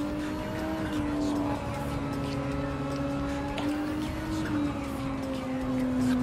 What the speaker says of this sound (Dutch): Ik dacht verschrikkelijk geluid dat er uit die Mazda kwam.